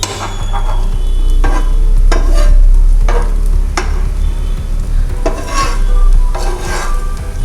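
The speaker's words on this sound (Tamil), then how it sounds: "கொஞ்சம் திருப்பி போட்டு டோஸ்ட் பண்ணணும்." Bread masala toast fries in a pan, a loud, close sizzle under repeated scraping and clinking of a spatula being turned and pressed against the pan at irregular intervals.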